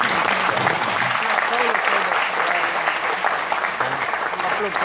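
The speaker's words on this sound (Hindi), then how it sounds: "जरा एक बार जोरदार तालियां दो।" A lecture audience applauds loudly and steadily with dense, continuous clapping, and a voice can be heard faintly under it.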